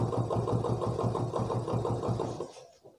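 A China-made 70cc motorcycle engine idles after a throttle adjustment, a steady fast putter with even pulses close to the microphone, cutting off abruptly near the end.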